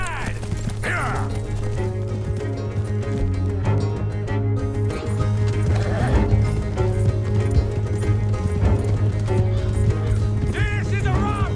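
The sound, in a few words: horses galloping in Red Dead Redemption 2 video game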